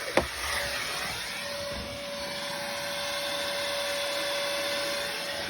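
A vacuum cleaner works inside a white 2017 Chevrolet Tahoe with a third row, giving a steady, close whine and whoosh after a short knock at the start.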